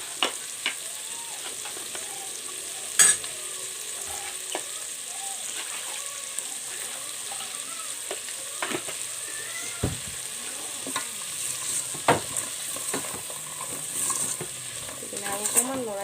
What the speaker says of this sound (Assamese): এইখিনি খুব ধুনীয়াকৈ ফ্ৰাই হৈ আছে।